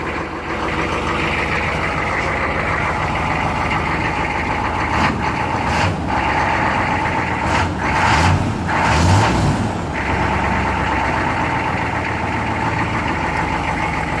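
A 6.5 litre turbo diesel truck engine idles steadily close by, a loud continuous rumble with a faint knock, running on Seafoam additive, briefly swelling midway before settling back.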